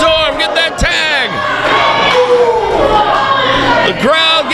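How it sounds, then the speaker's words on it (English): Wrestling crowd at an SWE Fury show roars and cheers loudly and continuously, with shouts and whoops rising over the din and bursts of excited voices near the start and end. "The crowd getting behind them"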